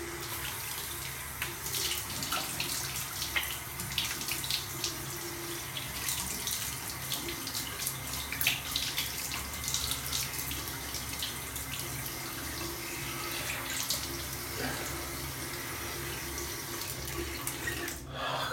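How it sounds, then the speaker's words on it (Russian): Cool tap water runs from a faucet into a sink while a face is rinsed, a soft continuous splash broken by irregular splatters and drips, fairly quiet and with no talking. "сейчас с прохладной водичкой мы все это смываем"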